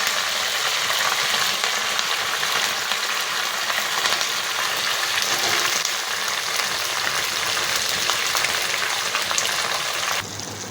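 Cumin, shallot slices and curry leaves tempering in hot oil, poured over a cucumber and green chilli chutney, give a steady, loud, dense sizzle that runs unbroken and tapers slightly at the end.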